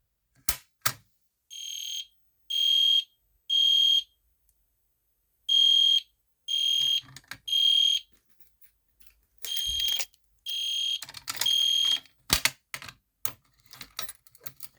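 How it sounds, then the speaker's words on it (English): Newly installed multi-candela horn strobe fire alarm sounding in a building, loud repeating electronic horn bursts in a steady on-off rhythm, with clicks and handling noise between, no talk. "if I pull the fire alarm will sound"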